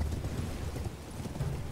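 Horse hooves clip-clopping in the video game Elden Ring, a soft steady trotting rhythm heard faintly for under two seconds, no talking.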